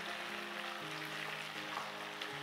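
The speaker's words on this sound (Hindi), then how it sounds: "डायरेक्टली आपने उस जगह शामिल करना है जहाँ पे कुकिंग ऑयल है, ताकि ऑयल के अंदर लहसुन अदरक भी भुन जाए" Garlic and ginger paste sizzles steadily in hot cooking oil while a nawabi korma is being made, a soft continuous frying hiss with a faint low hum underneath.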